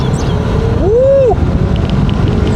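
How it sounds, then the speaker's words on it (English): A limited edition Mazda Miata's manual transmission grinds during a gear change, a short whining screech that rises and falls over steady engine drone and wind rush inside the moving car. "Oh, I grinded the gears like a noob."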